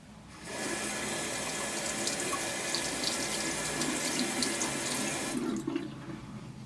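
A makeup brush is lathered with gentle moisturizing shampoo under a running tap, a loud steady gush of water into the sink that starts abruptly and continues for several seconds before easing off near the end.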